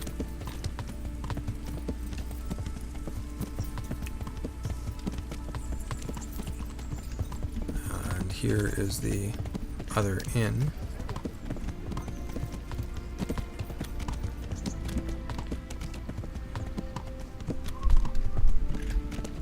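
A horse galloping in the medieval role-playing game Kingdom Come: Deliverance, with steady clip-clop hoofbeats running throughout over a dense game soundscape, and someone talking over it.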